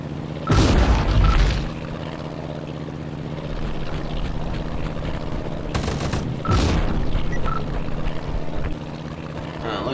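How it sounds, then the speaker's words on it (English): Heavy cannon and machine-gun fire from a Fw 190 A3 fighter in a WWII flight game, two loud bursts with booming impacts over a steady propeller engine drone throughout. "Looking at these strafe runs right here, you can see these things tear through everything super fast."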